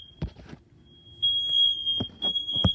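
A kitchen smoke alarm set off by a quesadilla cooking sounds a steady, piercing electronic tone that starts partway through and keeps going, with close clattering thumps beneath it.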